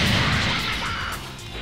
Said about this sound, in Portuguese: Pra vocês verem, ó, canhão da beleza.